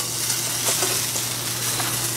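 Deer sausage fries in a pan with a steady, close sizzle and faint crackle, continuous and alone without talk.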